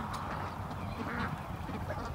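Ducks quack near a chicken coop in a continuous, fairly faint, busy chorus of nasal calls.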